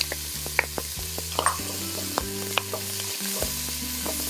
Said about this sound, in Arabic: راح أسخن زيت الزيتون وأنزل عليه البصل.